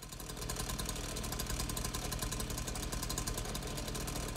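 A chainsaw running in the VR game Hot Dogs, Horseshoes & Hand Grenades inside catacombs, a steady buzzing motor drone held at a constant level throughout.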